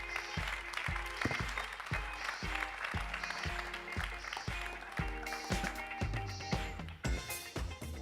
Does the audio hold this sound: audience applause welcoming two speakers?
yes